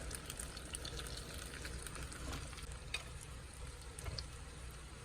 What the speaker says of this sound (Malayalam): അതൊന്ന് വാട്ടിയെടുക്കാം അതിലേക്ക് ചെറുതായി നുറുക്കി വെച്ച ഇഞ്ചി ഇട്ട് കൊടുക്കാം